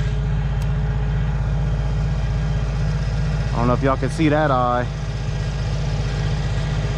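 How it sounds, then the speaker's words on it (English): A water pump runs steadily to drain a flooded backyard in Louisiana, a constant low engine-like drone close by, while someone talks briefly over it. "Sorry about that noise in the background, but that's the pump right there, trying to get all this water out of here."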